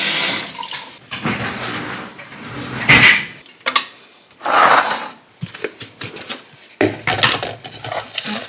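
A hot pan being rinsed under running tap water in a home kitchen, with splashing water, scraping and clanking of metal against the sink coming in loud, uneven bursts with brief pauses, heard close and without talk.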